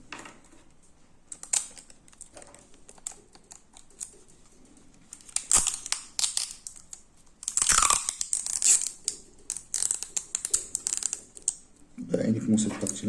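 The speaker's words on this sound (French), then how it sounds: "On va le fermer avec juste du scotch." Sticky tape is pulled and pressed to seal a printer cartridge, giving scattered crackles, short tearing rips and rustles up close, with sparse quiet talk in places.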